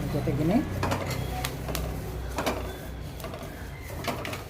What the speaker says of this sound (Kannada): ಸಿಮ್ಮಲ್ಲಿ ಇಟ್ಕೊಂಡು ಎಲ್ಲನೂ ಹುರ್ಕೊತಾ ಇದ್ದೀನಿ